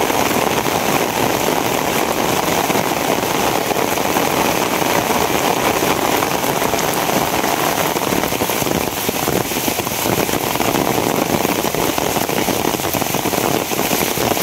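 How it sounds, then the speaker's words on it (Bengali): Steady rain falling without a break, a dense, even hiss that stays loud for the whole stretch, with no voices over it. "যে আরে বৃষ্টি আপনি শুরু হয়েছে,"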